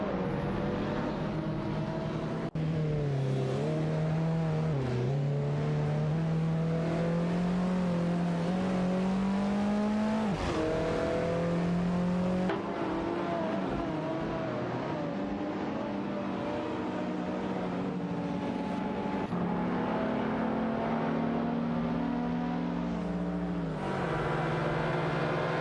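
Racing cars' engines in a racing video game, Mercedes machines droning loudly and continuously, pitch rising and dropping as they accelerate, shift and brake through corners.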